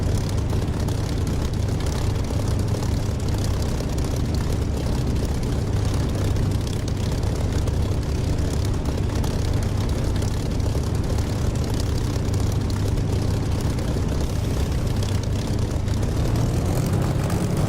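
A Spitfire's piston engine in the DCS flight simulator drones steadily and loudly at idle before takeoff, with a deep, unbroken rumble throughout and no talk.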